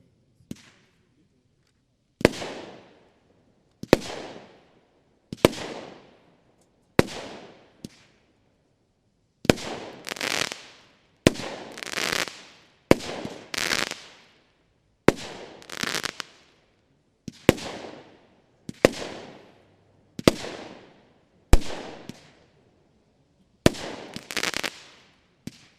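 An Argento Wintersun 20 mm, 16-shot fireworks battery fires a series of sharp launch thumps, each followed by a crackling burst, spaced unevenly and quickening toward the end, heard from a distance outdoors.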